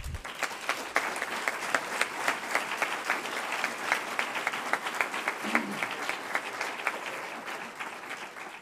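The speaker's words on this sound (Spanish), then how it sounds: "Un aplauso." Audience applause at an entrepreneurship award ceremony in Fuenlabrada as a business owner goes up to collect his prize, sustained rhythmic clapping from a hall crowd, fairly even for nearly nine seconds, with a brief low voice murmur midway.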